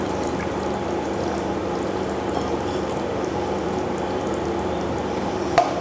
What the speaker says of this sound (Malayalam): ലേശം വെളിച്ചെണ്ണ ഒഴിച്ചു കൊടുക്കാം.